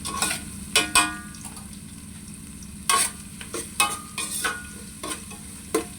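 Onions sauté in a pan with a steady close sizzle, punctuated by several sharp scraping and clacking spatula strokes against the metal, no talking.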